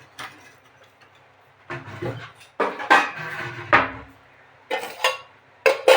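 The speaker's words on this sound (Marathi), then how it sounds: "आता कुकरला भात लावून घेते" Metal clanks and scrapes in a few separate bursts as a pressure cooker lid and pot are handled and fitted for cooking rice, with quiet pauses between.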